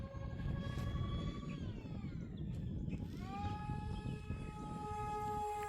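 A high, whining twin 64mm electric ducted fan tone from an RC A-10 Thunderbolt II jet rises and dips in pitch over a rushing roar, heard steadily at moderate distance on a gusty day.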